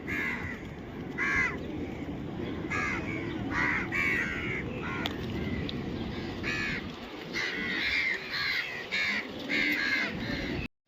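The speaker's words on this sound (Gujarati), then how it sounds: "ઘણાય છો કાગડા, આપણી બાજુ તો દેખાતા જ નથી હવે" Crows cawing near the Taj hotel waterfront in Mumbai, many repeated harsh caws from several birds at varying distances over a steady rumble of city and water traffic, no talk.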